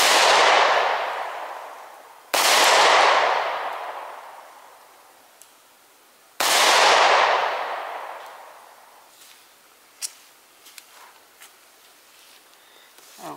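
Three loud pistol shots at an outdoor range, fired with an FN Reflex or a Girsan Hi-Power at 10 yards. Each crack rings out into a long fading tail, spaced a few seconds apart, followed by faint clicks and small knocks.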